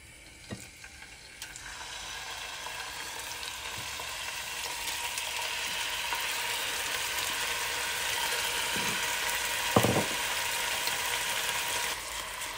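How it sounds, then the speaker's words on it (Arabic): Beef pieces fry in oil for a quick couscous, a steady broadband sizzle that holds evenly throughout with a few faint clicks and one brief clatter near the end; no voices. "قليت شويه اللحم"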